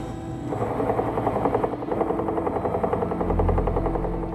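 A helicopter in Uummannaq, Greenland chops steadily with a rapid pulsing beat over a turbine whine, growing louder and deeper toward the end as it nears.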